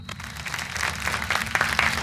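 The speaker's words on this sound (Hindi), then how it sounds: "तालियां" Onlookers applaud a magician's act, a dense, continuous wash of clapping over a low steady hum, staying fairly loud and even.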